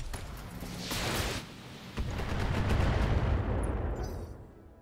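Mech weapons in Battletech open fire in a sustained volley of booming shots and rushing blasts, with a second heavier burst after a short pause that swells and then fades away.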